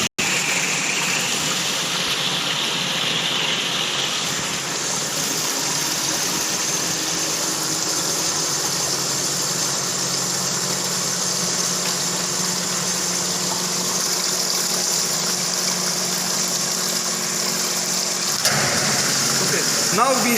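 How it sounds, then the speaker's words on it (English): In a transport phenomena lab rig for a Bernoulli experiment, water pours steadily into a tank for about twenty seconds, a broad continuous rushing under a low mechanical hum, stopping abruptly near the end. "now we will we will allow this water to enter into this tank for 20 seconds."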